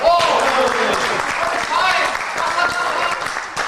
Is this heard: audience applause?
yes